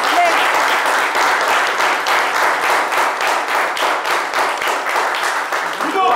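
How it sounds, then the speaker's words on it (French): A studio audience in a football talk show's yellow-and-black crowd breaks into loud, sustained applause, a dense rhythmic clapping roar held evenly throughout, close and full, tapering slightly near the end. "Si vous pouvez vous applaudir, s'il vous plaît."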